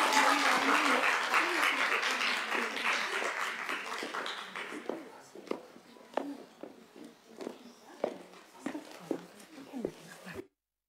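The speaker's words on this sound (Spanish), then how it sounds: "Vamos a recibirla, por favor, con un fuerte aplauso." Audience applause welcoming a speaker at a national women leaders' forum on gender-sensitive budgets: dense, loud clapping for about five seconds that thins into scattered claps and fades.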